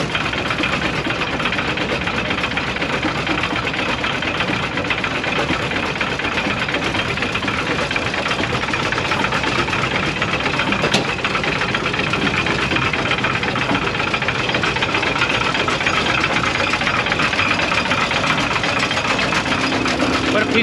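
A 1916 Holt Caterpillar 75 tractor, salvaged from scrap, runs with a loud, steady engine drone and knocking vibration that holds for the whole stretch.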